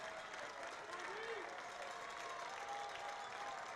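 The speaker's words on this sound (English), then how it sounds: "And the crowd's getting into it," Stadium crowd at a college football game between College Park and Westfield, a broad steady roar of cheering and applause on a third down, dense and continuous throughout with no distinct voices standing out.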